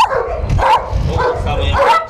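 Several dogs in a shelter kennel enclosure bark and yap close by in quick, repeated bursts, some higher-pitched and whiny, overlapping one another.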